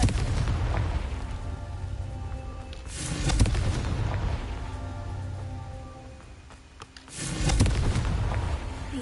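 A Confringo fire spell goes off in a Harry Potter video game as a pair of deep, rumbling booms. Each blast swells and fades over a few seconds, with steady low roaring between them.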